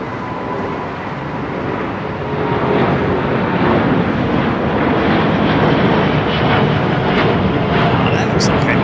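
An aeroplane departing London Heathrow's runway 09R roars steadily as a loud, broad jet rumble that swells and holds at full strength.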